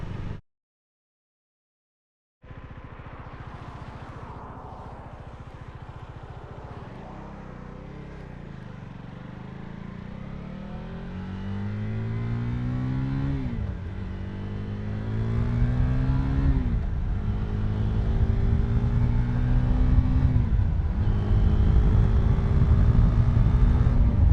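A motorcycle engine revs and climbs in pitch, drops briefly at each gear change up into third, then pulls higher and louder again.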